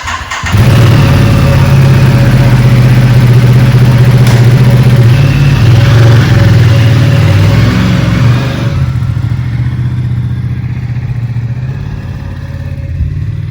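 A Ducati motorcycle, a Diavel with only about 172 miles on it, fires up and settles into a loud, close, throbbing idle, its low rumble steady before fading back somewhat toward the end.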